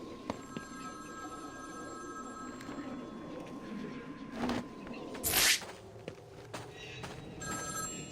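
A phone rings in Batman: Arkham City, repeated electronic ring tones sounding over a low game ambience, with a sharp burst of noise partway through and brief voices in the mix.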